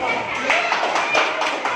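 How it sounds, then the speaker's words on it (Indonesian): Steady applause from a group, dense and continuous with scattered sharper claps, fairly close, with a voice mixed in. "tepuk tangan untuk kelompok"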